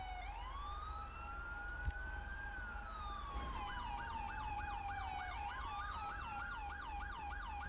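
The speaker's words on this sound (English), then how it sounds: "Ambulance showing up late as usual." An ambulance siren in the GTA V video game wails steadily, first in a slow rising and falling sweep and then in a fast warbling yelp, loud and continuous over a low engine rumble.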